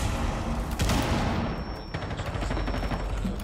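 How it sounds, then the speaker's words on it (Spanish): Rainbow Six Siege gameplay gives a dense, loud burst of gunfire and explosive blasts, with rapid crackling shots over a rumbling low end that carries on for several seconds. "cuando salte la explosión, cuando suene esto..."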